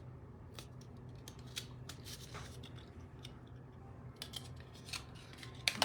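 Scissors snipping card squares in half for a fancy fold card, a series of small crisp cuts at close range, quiet and scattered with a couple of sharper snips near the end.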